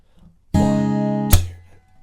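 A guitar plays part of the chorus of a song: one strummed chord rings for under a second, then a sharp percussive slap on the strings cuts it off and the sound dies away quickly.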